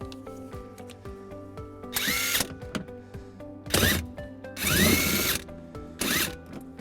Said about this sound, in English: that exposes a screw that we're going to remove using a 10mm socket